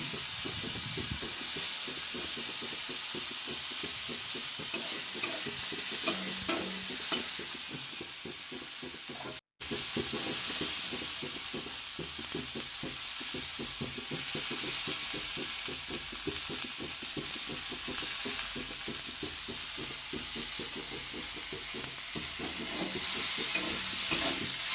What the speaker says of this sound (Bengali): আর এটা ভাজার সময় দেখতে কিন্তু বেশ লাগে, নাড়াচাড়া করতে করতেই প্রত্যেকের কালারগুলো চেঞ্জ হতে থাকে।